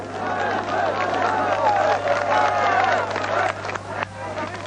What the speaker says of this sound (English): but this applause was for us, for the CBS News camera crew